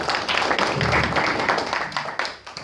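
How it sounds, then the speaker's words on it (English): Audience applause after a keynote speech at a CIO100 conference for CEOs, CIOs and board members in Naivasha, a short burst of close, loud clapping that thins into scattered claps within about three seconds. "Please, let's give a round of applause."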